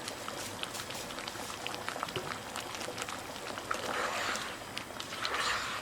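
A thick butter chicken curry bubbles and pops at a steady simmer, close by, with small crackling bursts swelling toward the end.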